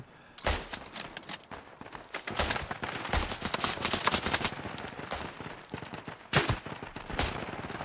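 Machine gun fire in the World War I shooter Isonzo, rapid bursts of sharp shots close and distant, overlapping into a dense battlefield fusillade with a louder burst near the end.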